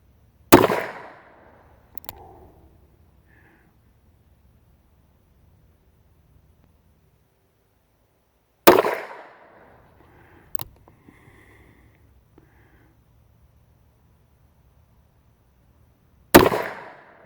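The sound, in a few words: gunshots at target practice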